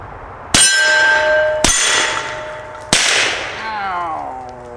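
Three loud rifle shots striking steel plates, each a sharp crack followed by a bright ringing clang that decays slowly, spaced roughly a second apart outdoors.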